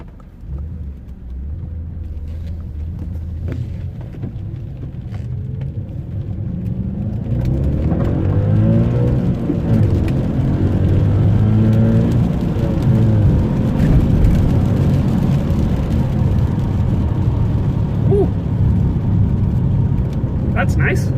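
An Audi S5 with a 4.2 V8 and an engine light fault is on a test drive: a low engine rumble swells as it pulls away and accelerates, then holds a steady drone with road noise, with someone talking over it.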